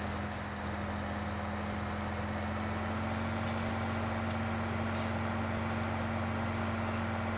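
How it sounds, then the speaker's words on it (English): A truck engine idles in the farming video game Farming Simulator 15, a steady low hum with a constant drone that runs unchanged throughout, fairly quiet and without talk. "It's weird to have this truck still running."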